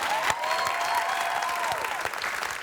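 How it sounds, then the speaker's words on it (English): Studio audience applause on a talk show set, steady and dense throughout with a few whoops, loud and close with no talking over it. "clap for affordability"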